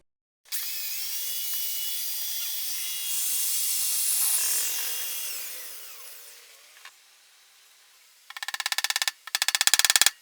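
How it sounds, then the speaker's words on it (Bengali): A fan motor mount is rubbed smooth while converting a 220V AC stand fan to 12V DC, giving a steady close rasping scrape for about six seconds that fades, followed by a few short, sharp buzzing bursts. "সেটিংয়ের জন্য ঘষে সমান করে নিচ্ছি"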